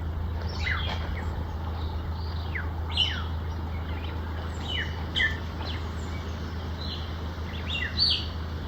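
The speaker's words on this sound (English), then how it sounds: "Listen to the birds." Birds chirp and call in a rainforest, with many short tweets and whistles overlapping at a moderate distance over a steady low hum of the forest background.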